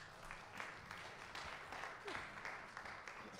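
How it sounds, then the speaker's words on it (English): A church congregation at a Sunday morning Methodist service claps together in praise, a steady, fairly quiet wash of many hands with faint voices mixed in. "clap of praise"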